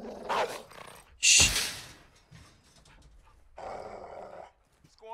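A dog growls and snarls in Call of Duty: Modern Warfare II, loud bursts separated by pauses, with a sharp yelp-like peak near the start and a longer rumbling growl later, mixed with game sounds.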